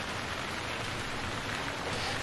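Steady rain hissing down on a tropical island in Stranded Deep, a soft, even wash of drops with no breaks.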